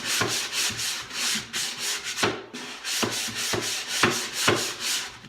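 Sanding block rubbed back and forth over chalk-painted wooden furniture to smooth the finish, a steady run of close, scratchy strokes with brief pauses between passes, no voices.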